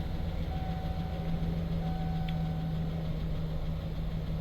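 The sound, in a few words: 2007-2013 Chevy truck engine idling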